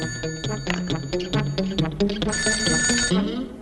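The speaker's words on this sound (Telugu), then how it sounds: "వచ్చే ఫోన్ నాకు వస్తుంది, మీరెందుకయ్యా కంగారు పడుతున్నారు?" An old-style telephone bell rings in a rapid repeated trill for a few seconds, loud and close in a room in a Telugu comedy scene. Its ringing pattern steps through several pitches before fading.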